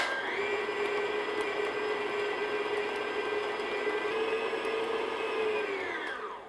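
An electric mixer whirring steadily as it blends red food coloring into cookie dough for candy cane cookies, a loud continuous motor hum held for several seconds before winding down at the end.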